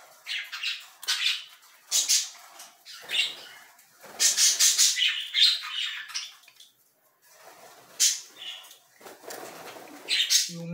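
Pet parakeets and canaries flap and flutter in bursts while feeding, with scattered squawks and chirps close by and short quiet gaps between the wingbeats.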